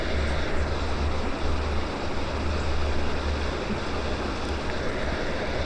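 Appe batter made with cucumber and semolina sizzles in a hot oiled appe pan, a steady, loud, even hiss that runs unbroken throughout with no talking.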